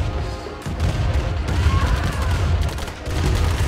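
Shootout between heavy tanks and grenadiers in a Command & Conquer match, with loud continuous gunfire and dense rattling bursts layered with low booms, briefly dipping before resuming.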